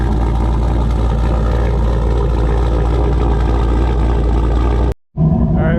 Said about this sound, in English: get the Turbo GMC fired up outside